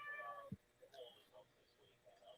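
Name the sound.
cat meowing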